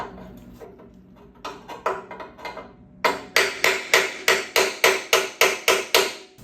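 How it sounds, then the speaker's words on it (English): Hammer blows on a cold chisel against steel car frame metal of a Triumph TR6 during frame repair: a few scattered strikes, then a steady series of about ten loud, evenly spaced sharp metallic hits close by, with no talk. "we're gonna take a cold chisel and we're gonna try to either snap it here or bend it in the middle,"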